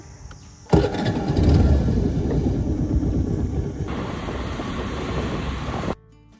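A motorbike engine kicks in abruptly and runs at a steady rumble as it rides along, loud and close, then cuts off sharply.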